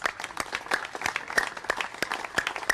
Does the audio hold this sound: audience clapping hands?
yes